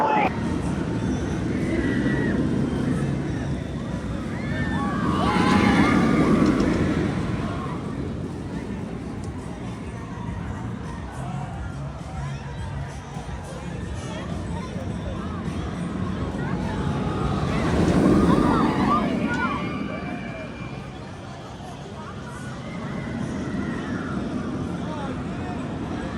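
Front-row ride on the Flash Vertical Velocity roller coaster at Six Flags Great Adventure: a broad roaring rush of wind and track noise that swells twice, with rider screams and voices mixed into the rumble.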